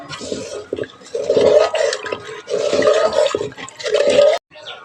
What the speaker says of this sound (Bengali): আমি এখন পরিমাণ মতো জল দিয়ে দিচ্ছি